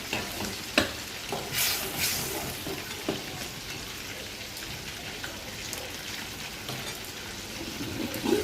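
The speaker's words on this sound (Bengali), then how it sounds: "গরুর মাংসটা কষাতে দিয়ে দিই" Beef sautéing in a pan with cardamom and cinnamon gives a steady, dense sizzle throughout, with occasional stirring scrapes and crackles, close and fairly loud.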